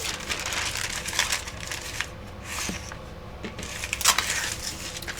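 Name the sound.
handling parchment paper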